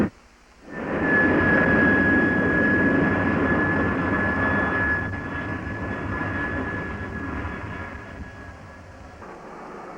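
A T-33 Shooting Star jet trainer takes off from a runway after trim adjustment on the taxi strip, its loud sustained jet roar with a steady high whine rising in after a quiet start, then slowly easing as it departs.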